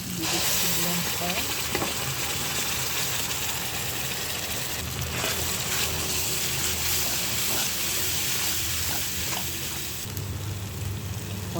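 Pabda fish frying and being stirred in a hot pan with chilli, a steady loud sizzle throughout with scraping stirs, occasional clinks and brief faint talk.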